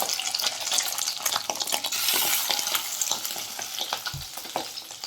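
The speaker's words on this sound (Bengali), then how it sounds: "এক এক করে মাছের ডিমের বড়া আমি ভেজে নেব" Fish egg fritters frying in hot oil on a low flame give a crackling sizzle close up, with bubbling and occasional spatula scrapes, no voices.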